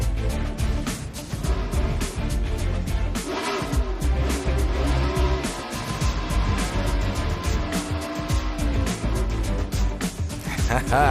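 NASCAR Sprint Cup stock cars doing post-race burnouts at Michigan International Speedway, with loud, sustained engine roar and broadband tire noise filling the whole stretch, under crowd and commentator talk.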